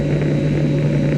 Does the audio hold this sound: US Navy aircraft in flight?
yes